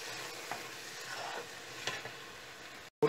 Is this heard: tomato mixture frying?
yes